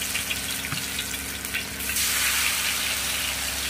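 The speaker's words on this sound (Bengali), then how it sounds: "তেলের মধ্যে দিয়ে লাল লাল করে ভেজে আমি তুলে নেব।" Pieces of dhoka, a flour-and-salt batter, frying in hot oil with a steady close sizzle and crackle that swells a little louder partway through, with no voices.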